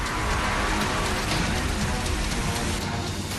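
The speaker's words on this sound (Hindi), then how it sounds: "मॉनसून के शुरू होते ही बारिश का जोर।" Heavy monsoon rain pours down in a dense, constant roar, loud and unbroken throughout.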